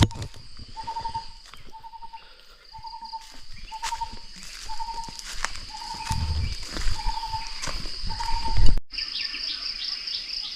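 A bird, a kra-hok (Thai forest bird), gives a series of short, evenly spaced calls outdoors, repeating steadily against a constant high insect-like drone, with a brief higher chirping burst at the end.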